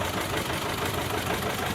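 A 1955 John Deere 70 diesel tractor idling at an antique tractor parade, a steady even engine chug with crowd ambience, moderately distant and continuous through the short stretch.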